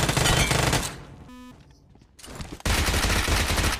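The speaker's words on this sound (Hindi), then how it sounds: "उजी का फ्री फायर मस्त है" Uzi submachine gun firing full-auto in the battle royale game BGMI: dense rapid bursts, loud and close, broken by a short pause and a brief tone before the fire resumes.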